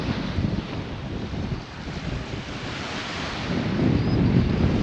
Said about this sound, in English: Wind is blowing a steady, I don't know, 15 at least, gusting up to 20.